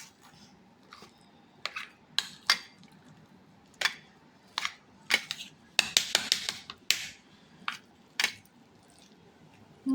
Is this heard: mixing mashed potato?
yes